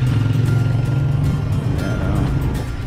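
A motor tricycle rumbles past on a street, its engine drone loud and steady and close by throughout, a low continuous motor hum with no talk.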